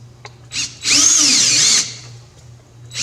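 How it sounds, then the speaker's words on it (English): A power drill bores holes into a wooden plaque for a rustic euro mount wall hanger, with one short burst followed by a single sustained whining run of about a second, close and loud, with no talk. "start drilling holes and putting it in the plaque"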